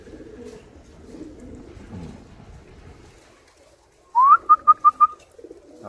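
Turkish tumbler pigeons are heard at first as faint soft rustling, then a sharp rising whistle-like call is followed by four quick, loud, evenly spaced pulses close by.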